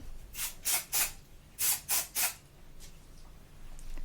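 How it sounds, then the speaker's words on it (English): Six short hissing hairspray bursts close by, in two groups of three with brief pauses, then a quiet stretch with faint rustling. "Or I might bring it further away and spray it."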